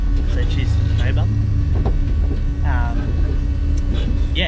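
Drift car with a two-way diff driving, engine droning low and steady with a fuel pump whine underneath, loud and close, with voices talking over it and music faintly audible.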